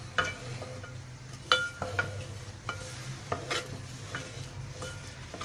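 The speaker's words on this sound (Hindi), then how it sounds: "इस तरह चमचे से हमें इसे चलाते रहना है" Spoon scraping and stirring a thickening khandli mixture in a pot over low heat, with irregular soft knocks and scrapes over a faint background bubble.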